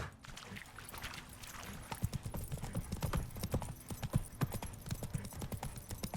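Horse hooves clip-clop at a steady gallop in The Witcher 3, a run of sharp rhythmic beats that start after a brief lead-in and stay fairly close and loud throughout.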